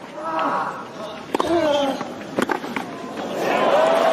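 A tennis crowd at a Nadal versus Djokovic match applauds a passing shot by Nadal, a steady roar of clapping and cheering under someone commentator's voice.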